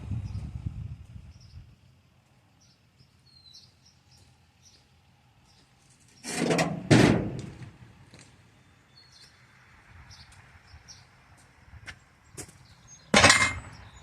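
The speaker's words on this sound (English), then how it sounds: "See if we can use a hammer on it." Two separate bursts of sharp metallic hammer strikes on a metal part of a GMC square-body truck, with quiet clinks and scraping in between.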